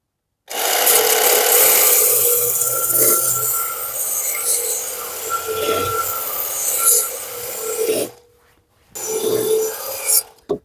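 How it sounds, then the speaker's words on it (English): A mower blade is sharpened on a Ken Onion Work Sharp powered sharpener, giving a steady abrasive rasp that runs close and loud for several seconds, briefly stops, then returns for a short final pass. "you want to sharpen the top side and not so much the bottom side on the mower blade"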